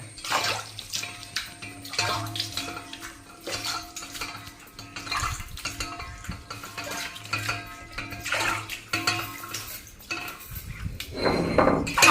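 A traditional stone grinding slab, used for grinding the paste for Kerala avial, is scrubbed and rinsed with water, giving repeated sloshing splashes and gritty scraping bursts throughout with no talking.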